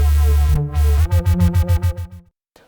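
Layered synth bass line with a clean sine sub one octave below, the layers sharing the same LFO rate; a deep held tone gives way to a fast pulsing wobble of about eight throbs before it stops abruptly.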